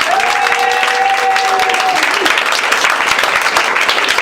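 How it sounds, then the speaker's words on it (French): A church congregation at a training seminar applauds and cheers for Jesus, dense steady clapping and crowd noise throughout, with a sustained sung or shouted tone riding over it early on. "Acclame encore Jésus s'il te plaît"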